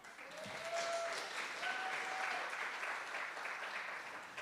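An awards-ceremony audience applauds, with steady, moderately distant clapping that holds evenly throughout, faint and slightly muffled, with no voices rising above it.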